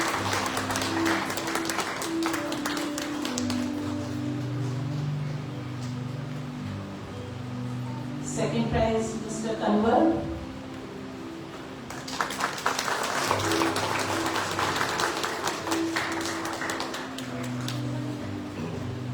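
Audience applause for quiz prize winners at a Sunday church service comes in two sustained stretches of brisk clapping, separated by a short spoken announcement.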